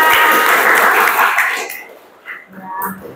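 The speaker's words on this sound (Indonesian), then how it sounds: "tepuk tangan untuk kalian semua" A school class breaks into a short burst of clapping that lasts under two seconds and then stops, followed by a few quiet coughs and faint sounds in the room.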